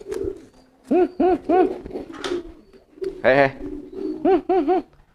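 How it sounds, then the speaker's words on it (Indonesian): Crested pigeons coo in a loud, close series of rounded, pulsing calls, several short bursts separated by brief pauses, with one longer rolling coo midway. "Jadi ini kan ada merpati nih."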